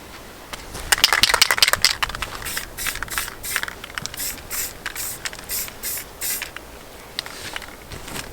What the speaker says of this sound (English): I'm going to give it a quick spray